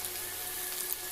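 Chicken pakoda pieces frying in hot oil give off a steady, dense hiss and crackle, close and continuous throughout a brief moment with no voices.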